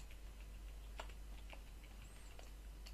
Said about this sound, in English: we're going to go in here and we're going to type in movie name.